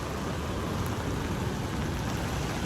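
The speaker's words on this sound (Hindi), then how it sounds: "बारिश हो रही है बहुत तेज़" Heavy rain pours down steadily outdoors near Manly Beach, a dense, loud, unbroken hiss with no voices, filling the air from start to finish.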